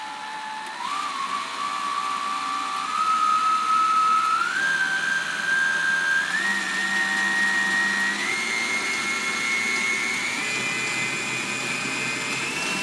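A Hauswirt M5 stand mixer runs steadily and close by, its motor whine rising in distinct steps as the speed is raised through several settings over about thirteen seconds.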